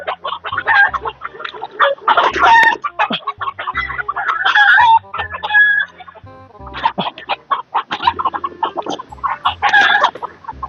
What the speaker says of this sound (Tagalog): Daming manok ah.